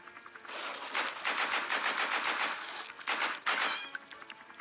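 Rapid automatic gunfire from the mobile zombie shooter game The Walking Zombie: Shooter rattles in a steady, dense burst with a brief pause and metallic shell-like clinks, loud and continuous with no voices.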